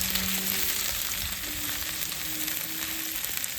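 Onions fry in a wok set over an outdoor barbecue, a dense, even sizzle with faint stirring underneath, heard up close with no talking.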